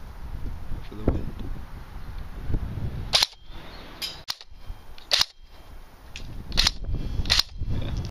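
A Mad Badger custom M16 VN airsoft gun fires outdoors, giving several sharp, snappy single shots spaced a second or so apart, with wind rumbling across the microphone in between.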